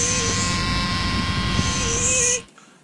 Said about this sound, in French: Ça, c'est ta pompe à injection qui se met en route, ta pompe à essence.